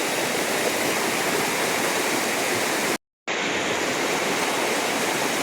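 Waterfall at Chilling Falls in Kuala Kubu, a loud, continuous broadband roar of rushing water close by, broken by one brief gap, with no talking.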